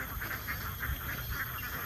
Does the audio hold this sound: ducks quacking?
yes